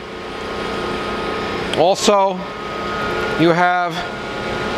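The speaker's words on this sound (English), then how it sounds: "it can spin like it is right now, turning the whole spindle" A Landis universal cylindrical grinder's spindle spins with a steady, even mechanical whir held throughout, while a person talks briefly over it.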